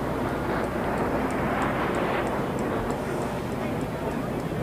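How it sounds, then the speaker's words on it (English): A Lockheed T-33 jet trainer flying at an air show gives a constant, loud broadband jet roar that fills the whole stretch without letup. "This particular airplane is the most widely used jet trainer in the world."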